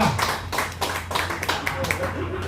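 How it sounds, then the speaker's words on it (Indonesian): An audience at a regional parliament talk event claps for P3 in short, uneven bursts of hand claps, with voices and talk running underneath. "Tepuk tangan buat P3"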